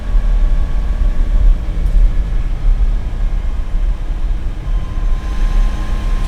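A restored Lamborghini Miura S on a road test pulls hard, its engine a loud, constant low roar with road rumble that holds steady throughout, with no talking.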